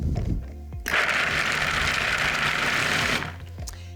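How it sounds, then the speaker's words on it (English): A food processor grinding chickpeas for falafel roars into a loud, steady whirring buzz for about two seconds, close up, then cuts off, with a few clunks and knocks of the machine before and after. "So first we're gonna start grinding the chickpeas."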